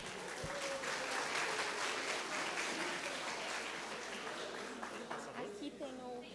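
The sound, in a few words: audience applause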